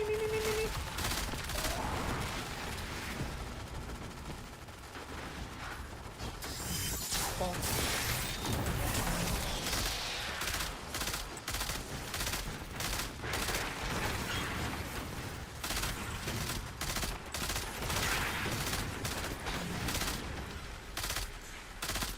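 Destiny 2 firefight: sustained rapid gunfire and bursts of explosions crackle densely throughout, with a voice talking occasionally over the din.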